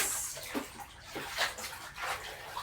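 Hand-washed laundry being rinsed in a basin of warm water, with repeated sloshing and splashing strokes at close range, steady and fairly loud with no talk over it.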